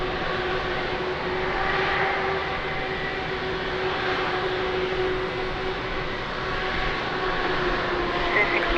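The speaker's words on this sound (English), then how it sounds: "Nice Swiss landing." A Swiss airliner lands at Lisbon Airport in wind and rain, giving off a loud, steady roar of jet engines that holds constant throughout with no talking.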